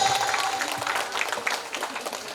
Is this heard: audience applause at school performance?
yes